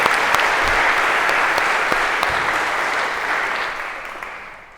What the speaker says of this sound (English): OK, come on up. Big round of applause,